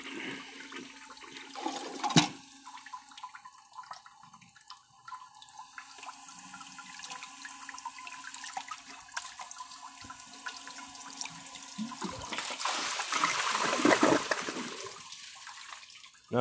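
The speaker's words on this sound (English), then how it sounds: "I'll empty the rest of the water from the tank." A Kohler Class 5 or Toto Drake toilet flushes as the rest of the water empties from the tank, a loud rushing swirl that builds and drains, followed by tank refill trickling and hissing.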